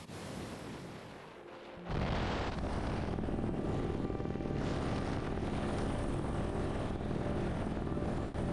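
A helicopter over a wave-battered coastline produces a loud, steady rotor and engine roar that swells suddenly after a quieter opening and then holds constant with a faint rhythmic beat, and no one speaks.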